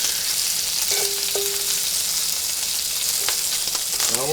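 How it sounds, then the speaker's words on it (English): Bacon cooking in a pan for shrimp and grits makes a constant loud sizzle and crackle with a few brief clinks, and no voices are heard. "Continuing to cook my bacon"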